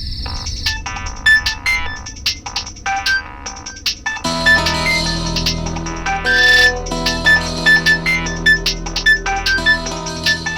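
A phone rings late at night in a quiet indoor setting, its repeating electronic ringtone sounding clearly and continuously with steady pulsed tones alongside soft background music.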